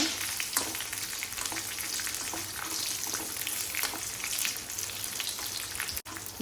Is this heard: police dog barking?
no